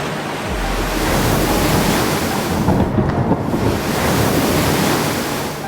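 Stormy open sea roars with heavy crashing waves and gusting wind, a loud, dense, continuous wash of surf rising and swelling throughout, with no voices over it.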